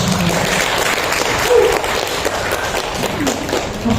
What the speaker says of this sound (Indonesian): Silakan beri aplaus Bapak.